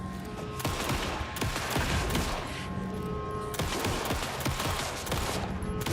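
Gunfire in Alan Wake 2, a steady stream of rapid, fairly loud shots in repeated bursts lasting the whole stretch, with no speech.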